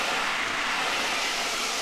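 A looping tyre-screech effect for game sound design, performed by dragging a hot water bottle over wood. It is a continuous, even, noisy screech that stays at full level with no voices.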